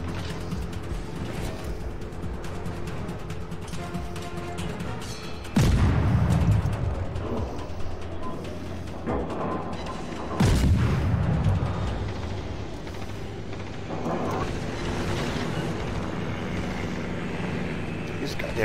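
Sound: naval guns firing in a naval video game

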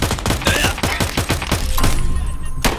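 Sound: gunfire in a video game, Tarkov or DayZ

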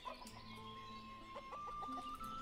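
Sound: chickens clucking in the video game Ostriv

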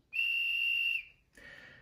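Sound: conductor's whistle from model train sound decoder

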